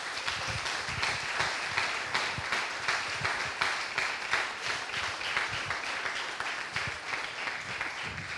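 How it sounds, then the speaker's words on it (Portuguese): An audience at an anniversary celebration applauds the Sargaceiros folk group of Apúlia, steady rhythmic clapping heard from some distance, fairly soft but continuous throughout. "para quem eu peço desde já uma enorme salva de palmas"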